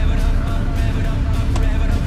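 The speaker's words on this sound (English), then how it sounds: "Rev it up now, baby, rev it up." A 1979 Pontiac Trans Am engine roars loudly and continuously at close range, a deep throaty rumble held high with slight pulsing through the whole stretch.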